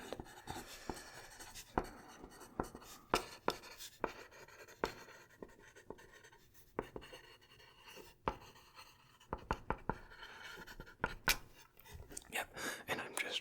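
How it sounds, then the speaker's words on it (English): Pencil writing on paper in close, intimate detail, with soft scratching strokes and sharp taps over about thirteen seconds, with faint whispery sounds in a quiet room. "I'm writing onto the paper the things that you're telling me"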